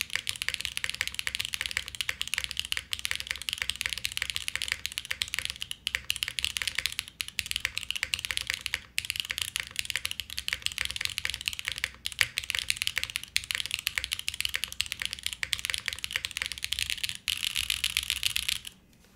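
Continuous typing on a Fuji65 mechanical keyboard built with an aluminum plate and long pole switches, a dense stream of crisp, close keystroke clacks with steady rhythm throughout, no talking.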